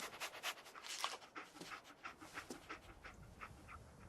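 Dogmeat, the dog companion in Fallout 4, pants in quick rhythmic breaths, fairly quiet and close, with no talking over it.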